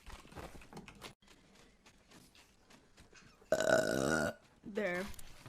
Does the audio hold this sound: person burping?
yes